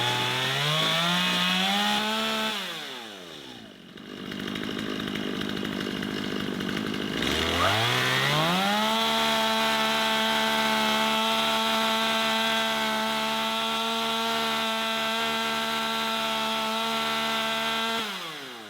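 Old chainsaw engine revving at high RPM, dropping to a low idle, then climbing back to a loud sustained high-speed buzz, running close and continuous.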